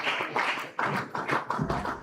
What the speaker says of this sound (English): Round of applause for Elder Patrick Baba,